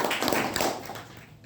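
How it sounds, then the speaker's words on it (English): An audience at a club meeting claps in a short burst of applause that quickly thins out and fades within about a second and a half. "Can we have a round of applause both of them?"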